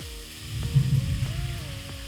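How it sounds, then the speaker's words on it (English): Shrimp sizzle in hot olive oil in a pan on a stovetop at medium heat, giving a steady, close crackling hiss over a low electrical hum, with no voices. "Now add in your shrimp"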